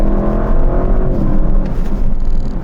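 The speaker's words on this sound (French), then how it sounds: "vous entendez la suspension comme elle vibre" Low, rumbling drone inside a 2023 Audi RS7 Performance with sport-set suspension on a rough road, the engine's steady hum mixed with vibration and thumps from the bumpy surface, loud and continuous throughout.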